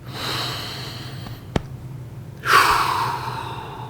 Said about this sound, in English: So I'm going to take a couple of nice breaths